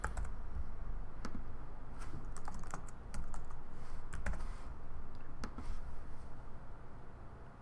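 Keystrokes on a computer keyboard as a username and password are entered, an irregular run of quiet clicks and taps with short pauses, close by over a soft steady background hum.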